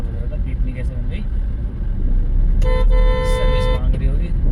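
A weak, squeaky horn on a Hyundai i10 toots in a short stacked-tone burst over steady engine and road rumble inside the car, with talk heard before it.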